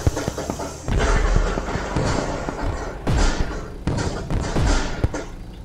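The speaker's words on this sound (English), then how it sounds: "Oh shit, I'm hearing fireworks." Fireworks go off in a video game as a series of irregular thumps and sharp bangs at moderate distance. They come in clusters over several seconds with no speech.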